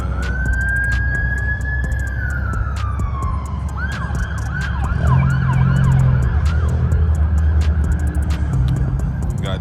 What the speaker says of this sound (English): we hear police car